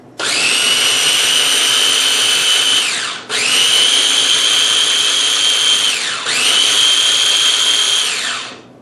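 A blender whirs loudly up close, blending red pepper, cumin, garlic and salt for a cilantro-lime pasta salad dressing. It runs in three steady bursts of about three seconds each, with brief dips between them.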